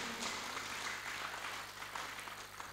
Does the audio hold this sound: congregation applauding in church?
yes